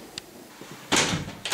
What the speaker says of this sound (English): Yeah, that's the door.